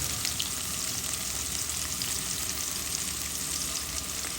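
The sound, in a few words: spices and onion frying in a pan for curry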